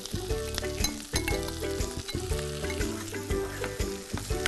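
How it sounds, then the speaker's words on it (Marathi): Vegetables and onion masala fry in a pan with a loud, steady sizzle, broken by repeated stirring scrapes close by. Nobody speaks. "त्यामध्ये आपण हा जो कांदा मसाला काढलेला आहे वेगळा तो आपण ह्यामध्ये ॲड करणार आहोत"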